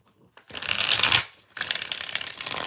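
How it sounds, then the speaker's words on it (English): Tarot cards riffled in two quick bursts, a long crisp flutter followed after a short pause by a second shuffle, close and fairly loud with no talking. "All right, 4 shuffles for LZ."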